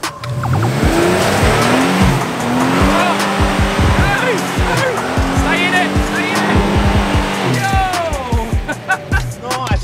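Ford Ranger Raptor on 35-inch tires grinding up a hard 4x4 off-road climb, engine revving and straining in loud bursts with tire scrabble throughout, while people talk and shout nearby.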